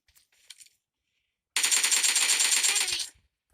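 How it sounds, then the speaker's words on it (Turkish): A sustained automatic burst of gunfire in PUBG Mobile Lite rattles for about a second and a half, loud and rapid, after a near-silent start with faint distant shots. "Hayır bana sıkıyor"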